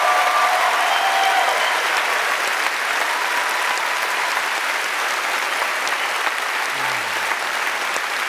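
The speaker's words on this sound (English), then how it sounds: "round of applause for our panelists here" An audience at The Witcher 10th Anniversary panel at PAX West 2017 claps for the panelists in a steady, full roar of applause that holds throughout without letting up.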